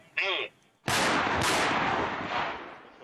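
Artillery fires at a military training range in an eastern combat zone, with a short sound first, then a loud booming blast and a long rolling echo that decays slowly.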